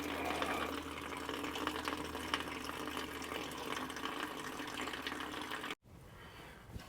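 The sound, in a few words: water draining from 6.7 Powerstroke fuel filter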